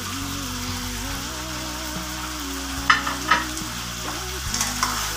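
Onions and tomatoes frying in a thick soy sauce gravy for spiced soy sauce chicken, giving a steady sizzle throughout with a few brief stirring clatters near the middle and end, no talking.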